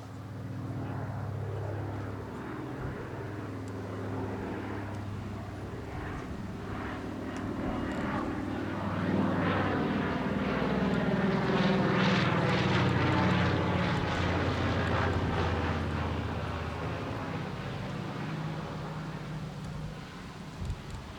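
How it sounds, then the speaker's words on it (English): A propeller aircraft circles overhead during an outdoor groundbreaking ceremony for a veterans' housing project in Edmonton. The drone is fairly distant, swells louder toward the middle and then slowly fades, heard on its own without talk. "Enjoy the aircraft."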